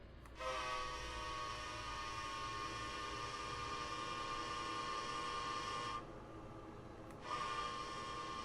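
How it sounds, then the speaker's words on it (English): Amtrak passenger train horn sounding long sustained blasts, with a brief gap before another blast resumes, heard from a fair distance over the low rumble of the moving train. "There goes the train climbing the way up."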